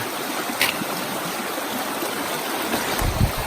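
A stream crossing on the Eagle Rock Loop hiking trail in Arkansas, with steady rushing, trickling water filling the scene close by and a faint splash or two, no talk.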